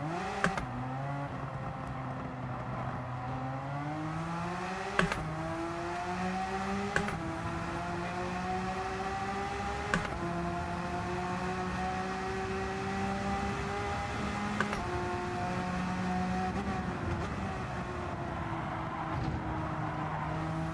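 A Porsche 911 GT3 in the Gran Turismo racing game screams steadily at high revs with brief gear-shift dips, a continuous loud engine drone with no speech over it.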